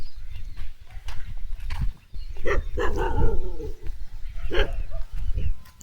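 Dogs in a peanut field bark in scattered bursts across the stretch, fairly close, over a steady low rumble of outdoor noise with no talk.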